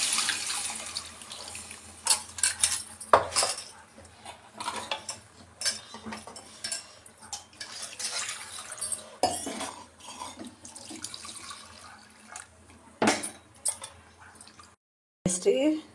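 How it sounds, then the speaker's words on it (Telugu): Soaked tamarind is stirred into rasam in a metal pot, with irregular clinks and scraping of a utensil, occasional splashy water sounds and a person talking over it. "ఇప్పుడు చింతపండు, నానబెట్టుకున్న చింతపండు దీనిలో కలిపేస్తాం"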